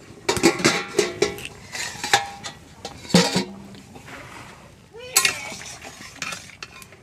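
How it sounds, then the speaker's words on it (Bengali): A lid comes off a pot of cooking fish, with a series of close metallic clinks and clatters, a soft sizzle of the cooking underneath, and some scraping or stirring after. "এখন ঢাকাটা খুলছি"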